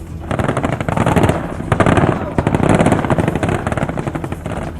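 Taiwanese soldiers fire guns from tanks and armored vehicles during a military drill, a loud, sustained clatter of rapid gunfire that sits close and continuous over a rumbling engine background.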